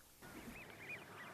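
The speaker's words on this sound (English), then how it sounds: "G is for goose." A goose calls a few times, soft and somewhat distant, its honks rising over a hushed outdoor background with no one talking.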